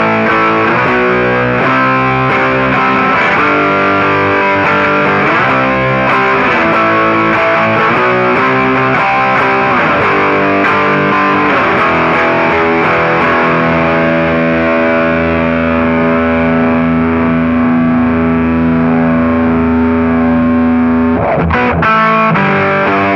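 An electric guitar through a ProCo Roadkill distortion pedal plays loud, saturated riffs with choppy chords, then rings out on a long sustained note before a brief final strum.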